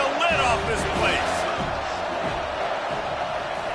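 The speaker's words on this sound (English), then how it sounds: "3rd down, and this crowd is tearing the lid off this place" A stadium crowd roars loudly on a third-down play in a football game, a dense and continuous wall of noise with excited commentary talking over it.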